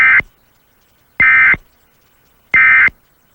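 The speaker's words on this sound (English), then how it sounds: "What you just heard was a civil emergency message from the Wisconsin State Police." Emergency alert system tone for a civil emergency message from the Wisconsin State Police, with three loud, harsh buzzing bursts of about a third of a second each, separated by short silences.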